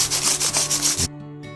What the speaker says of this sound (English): now let's sand it down. Use 320 grit.